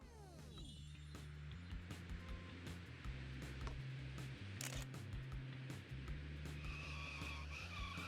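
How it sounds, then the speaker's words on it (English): Car tyres skid and squeal in a racing video game, a continuous screeching slide over a droning engine, loud and unbroken throughout. "So much skidding on all these maps."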